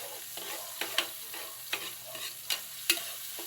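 Onion fries in a pan with a steady, faint sizzle while a utensil stirs it, giving intermittent scraping knocks against the pan and no speech.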